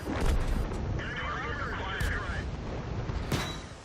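A Ram II tank cannon fires at a Valentine tank in World of Tanks, a heavy boom over a steady rumble of battle noise, with a second sharp blast near the end.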